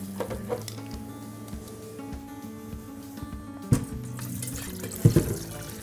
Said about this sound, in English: we're just going to literally drop that into ice water